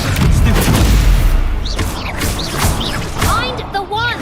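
Expelliarmus disarming spells strike in Hogwarts Legacy as loud, booming blasts and crackling impacts that repeat in a rapid volley, with voices talking over the combat.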